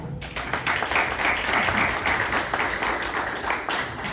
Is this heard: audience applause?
yes